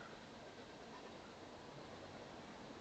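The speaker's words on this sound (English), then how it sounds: "I didn't know a train goes by this building." A train passing by a building, heard as a steady, muffled rumble of rail noise with no clear clicks, constant and fairly faint throughout.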